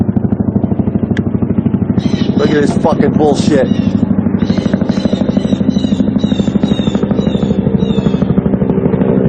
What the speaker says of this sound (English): Look at this fucking helicopter at my house